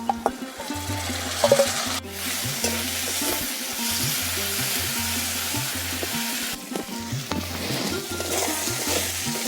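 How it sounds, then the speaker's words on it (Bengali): Prawns being fried in hot oil with already-fried onion, chilli and garlic in a village kitchen give off a loud, steady sizzle. Stirring scrapes and knocks sound close up throughout, with no talk. "যে চিংড়ি মাছগুলো সাঁতরে রেখেছিলাম সেই চিংড়ি মাছগুলো দিয়ে দিচ্ছি এই তেলের মধ্যে।"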